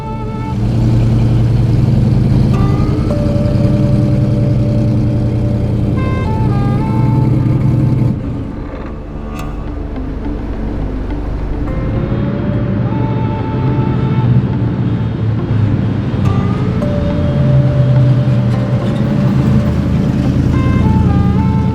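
Dodge Durango with a freshly installed engine running, a loud, steady low rumble close by, with a brief dip midway and faint tonal whines drifting over the drone.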